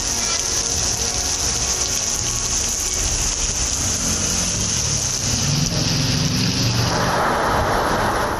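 Heavy evening rain pours down during a Tamil Nadu downpour. The rain is a dense, steady hiss that stays loud and unbroken throughout, with a slightly brighter wash of water near the end.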